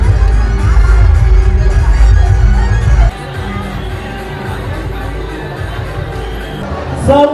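A large crowd of devotees at the Kelamba Devi temple in Kharoshi, Pen, fills the air with loud chatter and shouts. The noise drops abruptly partway through, and the hubbub continues more softly after that.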